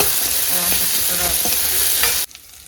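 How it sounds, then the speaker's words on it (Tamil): Ginger and garlic sauté in a hot pan for an egg curry, a loud continuous sizzle broken by quick stirring scrapes, then cutting off abruptly to near silence near the end. "அதையும் சேர்த்து நல்லா வதங்கிட்டோம்"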